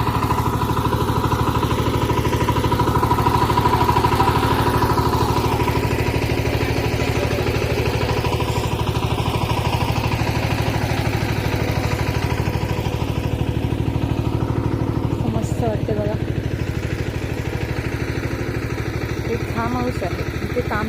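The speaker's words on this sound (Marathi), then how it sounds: "इकडे आमचा ट्रॅक्टर चालू आहे" A farm tractor engine runs in a paddy field after rice planting, a steady droning hum throughout with some clattering, while people talk nearby.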